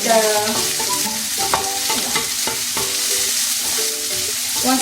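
Shallots and garlic sautéing in a pan for Filipino chicken sopas, a loud continuous sizzle with scraping stirring strokes throughout, with no talk.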